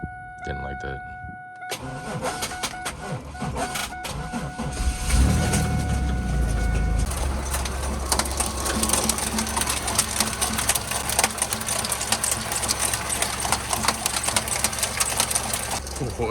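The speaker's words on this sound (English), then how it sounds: "The belt is coming apart." A 4th gen Camaro engine runs with its belt coming apart, a steady rough roar with a harsh rattling, slapping clatter that grows louder partway through, and someone talks over it.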